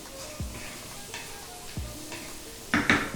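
Chopped capsicum and a small cubed onion cook in a pan with soft sizzling, punctuated by a few sharp stirring scrapes and clinks of a utensil against the pan, close and fairly quiet.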